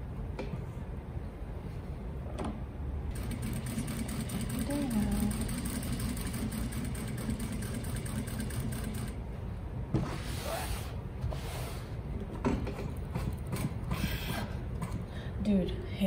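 Sewing machine with stiff hand wheels running steadily in a studio, a continuous mechanical whir with rhythmic clatter, loud and close, with a brief pause and quieter stretch around the middle.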